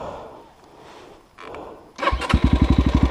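A KOVI Advance 250 enduro motorcycle engine fires up after a quiet stretch, then settles into a loud, close, rapid idle with a regular pulsing beat.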